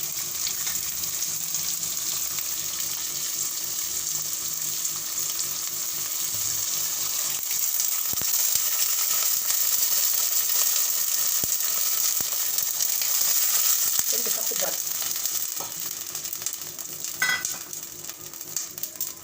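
Food sautéing in a pan, a steady continuous sizzle and hiss lasting throughout, with some faint stirring and scraping sounds toward the end.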